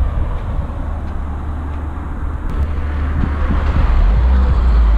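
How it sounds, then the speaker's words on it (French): A stock Renault car starts up: a low, muffled engine rumble that grows slightly stronger toward the end, with a faint tick or two. It is fairly quiet overall and no one talks over it. "On va voir ce que ça donne déjà au démarrage."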